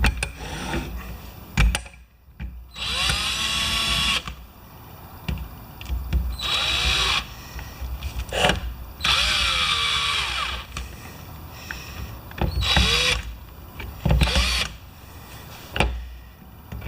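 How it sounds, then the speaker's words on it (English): A power drill whirs in repeated bursts, each climbing in pitch as it drives a screw while repairing a pressure washer, with short pauses and clicks between runs. "I'm going to use the drill to put them in close"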